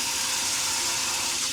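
Hot water pours steadily from an off-grid outdoor shower on a chilly day, making an even, broad rushing hiss with no breaks and no voices.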